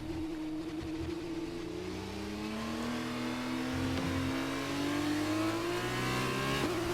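An F1 race car engine in a racing video game at Abu Dhabi, a high droning whine that climbs steadily in pitch through the gears, with faint crowd-like noise underneath and no voices.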